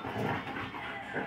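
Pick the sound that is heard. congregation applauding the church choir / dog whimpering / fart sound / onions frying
dog whimpering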